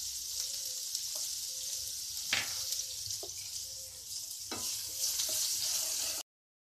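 Finely chopped onion sizzling with asafoetida in a hot pan, a steady close frying hiss with a few brief clinks and stirring bursts, no talking.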